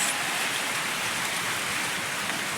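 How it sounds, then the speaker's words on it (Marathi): Steady rain falls in a village, the year's first rain in March, a dense continuous hiss of drops on surfaces, close and even throughout. "आमच्याकडे पहिल्यांदा पाऊस लागलेला आहे ह्या वर्षी"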